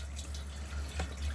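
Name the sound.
caravan water pump running, filling the water system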